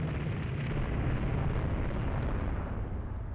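Naval gunfire and shell hits in the Rule the Waves 3 warship game, a dense, loud rumbling blast that holds steady and then tails off slightly.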